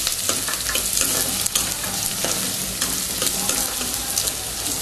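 Mint, green chili, ginger and garlic paste frying with onions in a pan, a steady loud sizzle with scattered stirring clinks and scrapes, close up and continuous.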